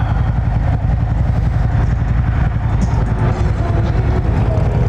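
A Harley Street Glide fitted with a Batwing windshield accelerates on the road, its engine a loud, steady low throb heavily mixed with rushing wind buffeting, close and continuous with no talk.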